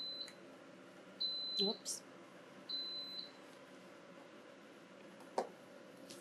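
A kitchen oven timer gives short, thin electronic beeps in three bursts while cooking collard greens for a Thanksgiving meal, quiet and spaced apart, with a brief spoken word and light handling noise.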